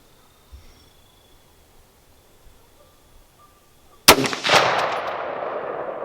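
Rifle fire at an outdoor range with a scoped rifle at 50 yards: after a quiet stretch, a single sharp, loud shot cracks out and rolls into a long, decaying echo across open ground.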